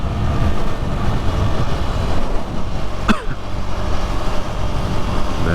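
A quick 400cc motorcycle with a quick shifter accelerates hard, its engine and wind roar loud and continuous, with a sharp shift blip cutting through about halfway.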